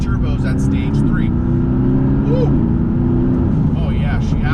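A stage 1 tuned McLaren MP4-12C accelerates hard, its engine droning loudly with rising pitch and gear changes, close-up, with people talking and exclaiming over it.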